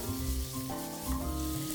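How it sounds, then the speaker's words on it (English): Peppers frying in leftover chorizo fat and oil in a pan, giving a steady, close sizzle with faint stirring and no voices. "I'm just gonna put that into the extra chorizo fat and oil"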